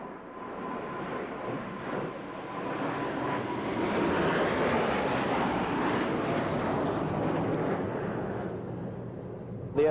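Four Blue Angels F-18 jets in tight diamond formation pass at a 1992 Grissom AFB airshow, a broad roar that swells steadily, holds loud through the middle and lingers without fading away.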